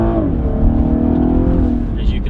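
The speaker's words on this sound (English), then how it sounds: "this car's fun to drive. It accelerates well" A 2015 Cadillac ATS accelerates along a snowy Colorado road, its engine a steady, continuous drone heard from inside the cabin, holding level throughout with a faint hiss creeping in near the end.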